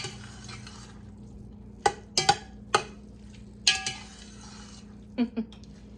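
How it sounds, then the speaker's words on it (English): A spoon stirs creamy Italian tortellini soup in a pot, knocking and scraping against the sides in about half a dozen sharp, close clinks spread unevenly over a quiet background hum. "Let's give this a nice stir."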